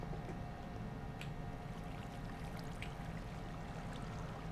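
Water flowing steadily from a placed block in Minecraft, a soft, continuous trickle heard up close and alone, with a couple of faint clicks.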